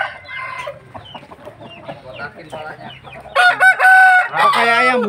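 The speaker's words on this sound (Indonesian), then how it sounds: "Cianjur jago ini." A Cianjur rooster crows loudly and close at the end, its long call rising after a stretch of clucking and soft chicken noises.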